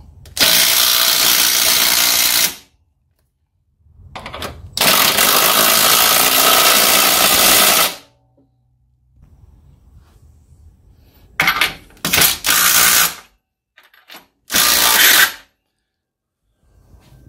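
Tools tighten engine mount bolts during a K-series engine swap into a Toyota MR2, with loud close bursts of rapid ratchet clicking separated by pauses and a few short quieter ratcheting bits.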